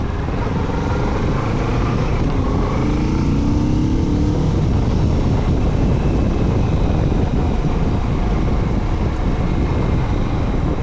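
A Kawasaki Z650RS with a 650cc two-cylinder engine is ridden at speed, a loud, continuous engine drone mixed with heavy wind roar that holds steady throughout.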